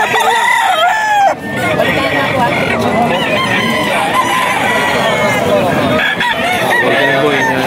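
A rooster crows loudly and close by on a farm, with long, strained calls that fill the whole stretch, one crow running into the next.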